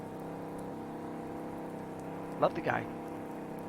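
Steady rain hisses throughout a Farming Simulator 19 scene, a soft even wash beneath a voice that cuts in briefly near the end.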